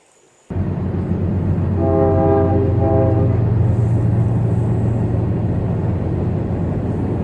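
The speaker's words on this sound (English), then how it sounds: "The train tracks nearby were pretty active. We had several trains go by as we waited." A train rumbles steadily past close by near Nickajack Lake, Tennessee, a loud continuous roar with a brief horn-like tone partway through.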